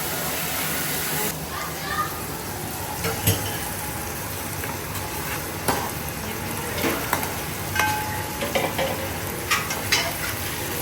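Curry with chicken, tomato puree and oil sizzles and fries steadily in a pan, with intermittent stirring clatters and children's voices in the background.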